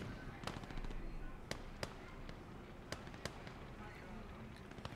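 Scattered sharp gunshots from SMGs and STG 44 rifles in the WWII strategy game Gates of Hell: Ostfront, irregular distant cracks and short bursts under someone talking over the battle.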